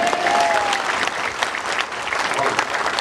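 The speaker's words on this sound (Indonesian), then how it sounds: "Tepuk tangan untuk kita semua." Clapping rises from the audience at an Islamic religious gathering, a steady crowd applause with a voice briefly audible at the start.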